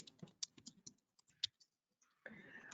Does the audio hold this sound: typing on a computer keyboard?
yes